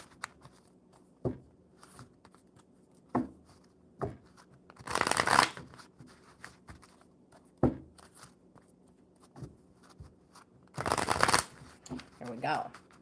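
Oracle cards being shuffled in two long riffling bursts, with scattered taps and card handling between them, close and fairly soft in a quiet indoor space.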